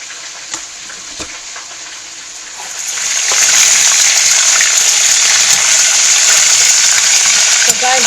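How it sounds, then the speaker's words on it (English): Water is poured into a pot of browning oxtail for Jamaican oxtail, a quiet sizzle swelling into a loud, steady hissing gush partway through that stays close and continuous. "So now I'm going to throw my water in."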